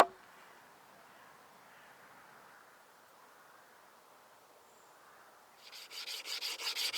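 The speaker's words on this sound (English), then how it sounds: "I sharpen my wrought iron chisel and other tools with some handmade whetstones made of the local sandstone" A wrought iron chisel is sharpened on a handmade whetstone of local sandstone. After a long near-silent stretch, a quick series of rhythmic, gritty scraping strokes starts near the end.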